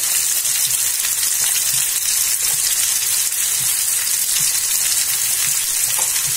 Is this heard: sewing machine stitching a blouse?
no